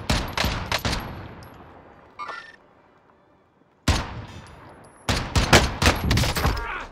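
Bursts of gunfire from Call of Duty Warzone (Rebirth), with several rapid volleys near the start, a lull with faint distant shots, then loud clustered automatic fire returning toward the end.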